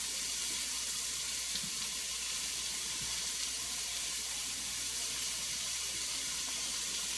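Constant loud sizzling and hissing from vegetables frying in a hot pan for pad thai, steady throughout with a couple of faint clinks, no talking.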